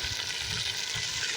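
Onions browning in a pan along with tomato, ginger, garlic and green chilli, a continuous close sizzle and crackle of frying for aloo palak, steady and fairly loud, with no voices.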